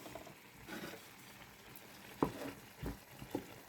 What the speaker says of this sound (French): on va rajouter notre lait de coco. Et là, on va mélanger.